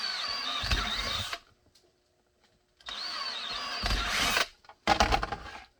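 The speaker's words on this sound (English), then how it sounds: "All right, we'll drill the holes." A power drill bores holes in an inside-the-waistband holster for a Ruger Security 9, whining steadily in two close bursts of about a second and a half each, then a brief final spurt after a short pause.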